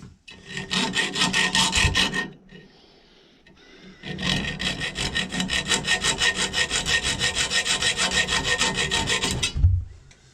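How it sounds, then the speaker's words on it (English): A hacksaw cuts a ramrod in fast, rhythmic rasping back-and-forth strokes, a short burst, a pause of about two seconds, then a longer steady run of strokes, close and loud with no talking. "hacksaw both sides of it"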